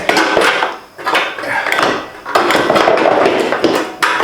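Metal bumper being pried and pulled off a Jeep Gladiator Rubicon during a fog light install, with repeated loud clanks, knocks and scraping rattles close by, no talk.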